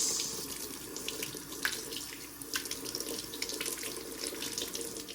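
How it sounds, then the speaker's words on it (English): A kitchen tap runs steadily into a sink for rinsing, a continuous moderate splash of flowing water with small fluctuations and no voices. "And it's time to rinse."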